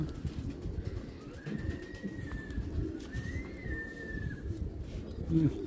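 A pair of Python-breed racer pigeons cooing nearby, soft low coos over a steady background hum with occasional faint whistling tones.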